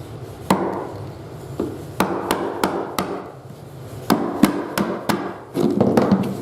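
A screwdriver blade is struck against a leftover piece of hardwood flooring, with a dozen sharp, irregular knocks and cracks, close and loud, and a rougher splintering scrape near the end.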